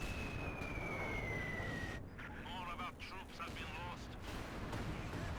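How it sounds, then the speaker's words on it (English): Artillery shells from a Company of Heroes 2 bombardment thud and rumble across the battlefield in a low, continuous barrage, with a voice talking over it. "There's like bombs coming in all over the place."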